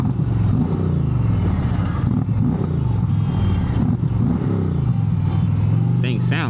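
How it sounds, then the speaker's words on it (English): Indian motorcycle with stock exhaust pipes running on the road, a deep loud engine drone with shifting revs, close and continuous while the rider talks over it. "The bike sounds amazing. For stock pipes, this thing sound good."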